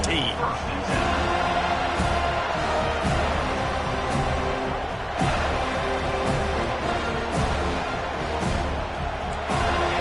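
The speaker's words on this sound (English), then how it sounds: "This crowd bringing an ear-splitting welcome to their visitors." Stadium crowd in the video game College Football 25, a dense, steady roar of cheering filling the background while a commentator talks over it throughout.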